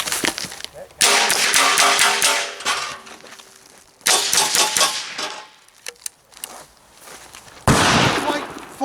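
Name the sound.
gunshots from an AR-22 rifle on a timed course of fire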